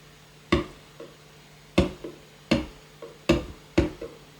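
Close, dull kick drum thumps land at an uneven pace, with quieter snare hits bleeding through faintly between them over a low hum.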